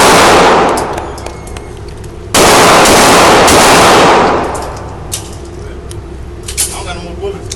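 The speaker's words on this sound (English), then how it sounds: "I just want to shoot one time." A Taurus Millennium .45 ACP pistol fires loudly at an outdoor gun range, with a sharp burst around the middle ringing out and decaying, while background chatter and range noise continue.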